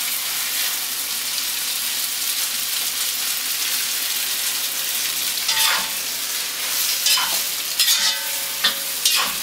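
Noodles for pad thai fry in a pan coated with thick black soy sauce and molasses, giving a loud, continuous crackling sizzle, with occasional sharper spatters and utensil scrapes toward the end.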